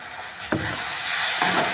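Green chilies and spices frying in a pan for a baingan matar bharta, a steady close hiss of sizzling oil with a couple of brief stirring scrapes.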